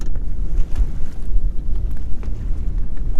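Strong wind buffets the microphone while bass fishing, in low, rumbling gusts that rise and fall continuously, with no clear voices.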